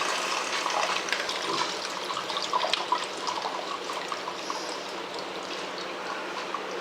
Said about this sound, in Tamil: புளி தண்ணி வந்து கரைச்சி வச்சுருக்க பாரு அதை ஊற்றிட்டேன்